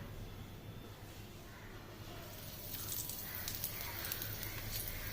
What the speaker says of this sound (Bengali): তো তেল গরম হয়ে গেছে, তো এবারে যে কোটিং করা চিংড়ি মাছগুলো ছিল সেগুলোর মধ্যে ছেড়ে দেবো।